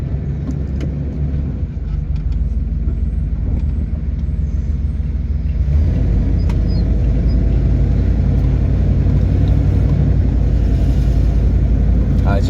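A 1992 Ford Four Winds RV motorhome pulls away, its engine rumbling low and steady and swelling louder as it gets underway, with voices talking briefly over the drone.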